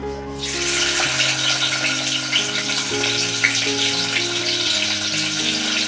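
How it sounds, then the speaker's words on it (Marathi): Onion sizzles loudly and continuously in hot oil in a cooking pot, a dense crackling hiss with faint steady musical tones underneath. "मी पातेल्यामध्ये तेल टाकले आता मी कांदा टाकते"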